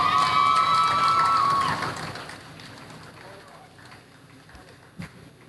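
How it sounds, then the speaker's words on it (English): An audience claps and cheers at the Guyana Police Force annual Christmas award ceremony. The applause is loud for the first two seconds, then fades to a low room murmur with a brief knock near the end. "Clap for the Commissioner's Office."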